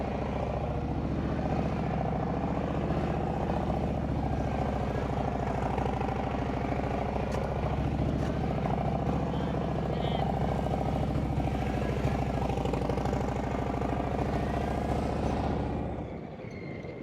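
Motorcycle fitted with Tab Performance 4.5 slip-on mufflers and zombie baffles, a DCT Gold Wing at slow speed, giving a deep, steady loping exhaust burble that runs loud and close for most of the clip before dropping off near the end.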